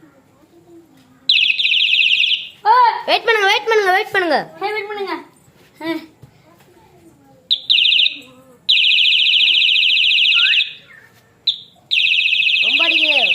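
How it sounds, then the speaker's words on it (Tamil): A loud, steady high-pitched alarm beeps in long sustained bursts with short gaps, while people talk urgently close by. "அலாரம் அடிக்குது, அலாரம் அடிக்குது."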